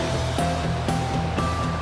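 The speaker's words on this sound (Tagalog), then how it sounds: "So medyo malakas yung alon nga." Steady roar of heavy surf at Mahboula seaside, Kuwait, with repeated surges as strong waves break, continuous and fairly loud, no voices.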